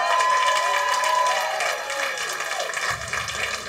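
Audience clapping at a live soul music contest, a dense, sustained round of applause that holds steady and slowly thins toward the end.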